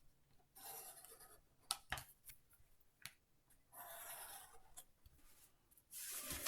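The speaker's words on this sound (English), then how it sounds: "we take the ruler and we draw in" Pencil drawing lines along a ruler on paper while drafting a one-piece swimsuit pattern, heard as several separate close scratchy strokes of a second or more each, with small taps and clicks between them and no talking.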